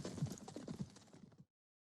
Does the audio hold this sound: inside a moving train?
no